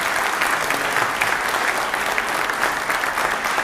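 A seated audience at a book presentation at a naval centre gives sustained, even applause, many hands clapping steadily and close for several seconds with no voices over it.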